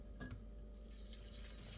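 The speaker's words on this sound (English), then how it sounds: "And I'm just gonna pour it on in here." Sugar water poured into a container gives faint trickling and dripping, with a brief splashy spurt near the start and then a soft, continuous pour.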